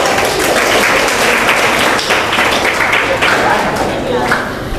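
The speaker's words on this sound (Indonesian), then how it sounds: "Beri tepuk tangan untuk Kak Azam." Audience applause for Kak Azam at a school orientation event, dense and steady clapping close by for about five seconds, with some voices mixed into the crowd noise.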